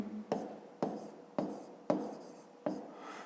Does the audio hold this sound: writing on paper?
yes